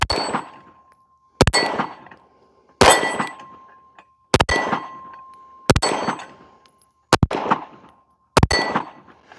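Loud, sharp Staccato P pistol shots at a range, seven spaced reports about one to one and a half seconds apart, each followed by a ringing metallic clang from struck steel targets roughly ten yards away.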